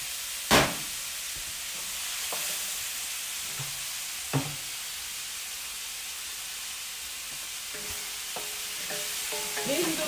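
Vegetables and chicken sizzle in an oiled wok on a Weber grill, a steady frying hiss broken by occasional clanks and scrapes of stirring, close by with no talk.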